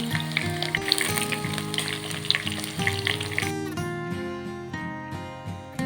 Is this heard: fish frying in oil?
yes